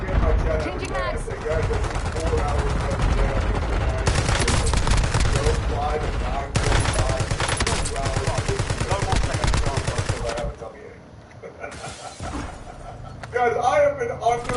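Rapid automatic fire from a Kilo rifle in Warzone, dense bursts of close gunshots that come in long runs and short pauses, while someone talks over the shooting.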